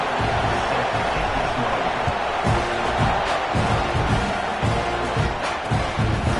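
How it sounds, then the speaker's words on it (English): Stadium crowd at an Ohio State college football game roaring steadily as the kickoff approaches, a dense continuous wall of cheering with some thumps and claps throughout. "They're set to kick it off, and this crowd now ready to get behind them."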